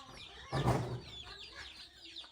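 Young chicks kept inside a room give a brief burst of clucking and chirping, close and moderately loud, then trail off into softer scattered peeps.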